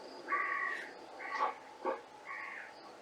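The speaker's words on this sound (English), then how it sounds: "And three crows after that." Several crows caw in a desert setting, four separate harsh calls spaced across a few seconds, moderately loud and fairly close, with no talking.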